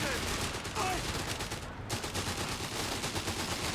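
Continuous rattling machine gun fire from a Company of Heroes 3 battle, a dense, steady stream of rapid shots filling the whole stretch at moderate loudness with no pauses.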